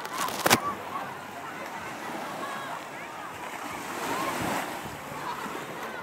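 Ocean surf at Karanggongso Beach in Trenggalek, a continuous wash of waves with wind buffeting the microphone, surging louder midway, while a school group plays and voices are heard.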